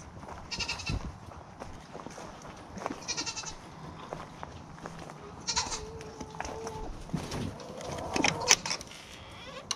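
Several goats bleat on and off, close by, with scattered clattering and shuffling noises in between.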